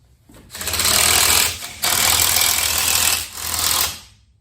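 An impact wrench runs lug nuts onto a truck wheel on an OBS Chevy C1500, three loud rapid hammering bursts close up with brief gaps between them.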